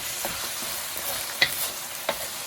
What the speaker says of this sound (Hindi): इसको अच्छी तरह ऐसे मिक्स कर लेंगे